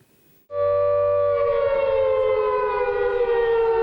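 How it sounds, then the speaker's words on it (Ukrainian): A civil-defense air raid siren wails in Ukraine, starting abruptly and holding a loud, steady, slightly wavering tone that swells and carries on without a break, with no talk over it. "Повітряна тривога ставить на паузу роботу сервісних центрів."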